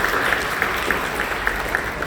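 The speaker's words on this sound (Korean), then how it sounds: "박수로 격려해 주십시오." A church congregation applauds during a Sunday service, with steady, evenly spread clapping filling the room for a couple of seconds.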